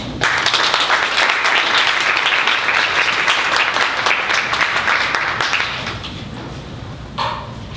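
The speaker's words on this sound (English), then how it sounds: "let's give her a very warm round of applause" An audience at a book launch at Malvern Books gives a warm round of applause, loud and dense at first, then fading out over several seconds before a brief voice sounds near the end.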